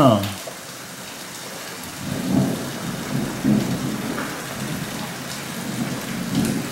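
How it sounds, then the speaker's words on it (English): Low rolling thunder rumbles several times over a steady patter of monsoon rain, fairly distant, with a faint voice briefly audible. "You can hear the thunder."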